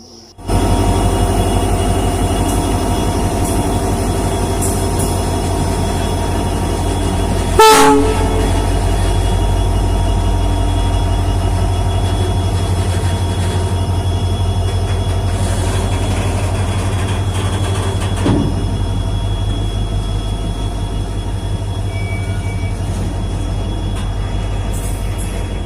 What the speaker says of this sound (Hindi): और यह माल ट्रेन जो है घोंघड़िया रेलवे स्टेशन से अब जा रही है।